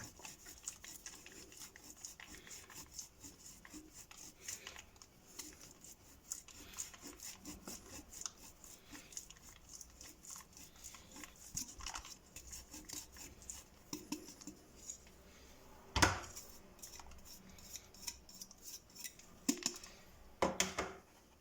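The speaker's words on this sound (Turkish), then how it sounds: "İçerisine parçala yufka koyuyoruz ve kaşar peyniri rendeliyoruz içerisine" Kashar cheese is grated by hand onto torn yufka pastry, a soft repeated rasping scrape in steady strokes, fairly quiet, with a couple of sharper knocks near the end.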